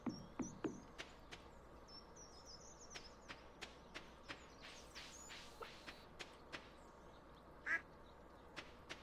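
A duck in a farming video game quacks faintly among a run of short clicks, with one louder call near the end over a quiet buzzing background.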